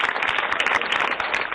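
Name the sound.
audience applause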